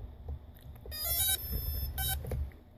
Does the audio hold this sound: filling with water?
no